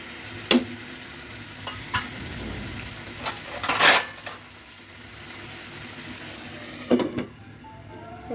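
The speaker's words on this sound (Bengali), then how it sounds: "আর একটু তরকারি ছিল, কষিয়ে নিচ্ছি একটু অল্প করে, 2-3 মিনিট একটু কষিয়ে নিব" Leftover curry sautés in a pan with a low sizzle, broken by several sharp scrapes and clinks of a spoon stirring against the metal, close and fairly quiet.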